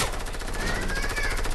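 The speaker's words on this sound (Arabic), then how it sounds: "رصاص" Rapid automatic gunfire in the video game Fortnite, a dense, evenly spaced burst of shots fired close by.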